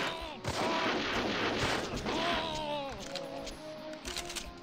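Gunfire in the trench-warfare video game Super Trench Attack, a steady stream of loud shots and game effects with someone talking over them throughout.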